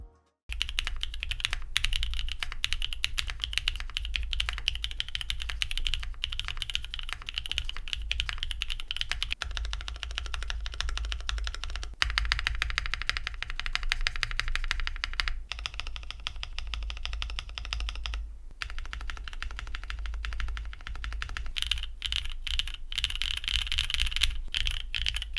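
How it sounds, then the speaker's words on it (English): Continuous typing on an AJAZZ AC067 Iron Grey keyboard with lubed switches, balanced re-lubed stabilizers and case dampening removed: rapid, close, steady clacky keystrokes with occasional brief pauses, no voices. "So let's get the keyboard back together for the next typing test."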